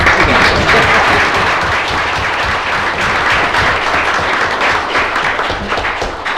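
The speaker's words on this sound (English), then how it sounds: "Well, let's clap." Audience applause at a Cartersville city council meeting, a steady dense wash of clapping held for several seconds in an indoor chamber, loud and continuous with no talk over it.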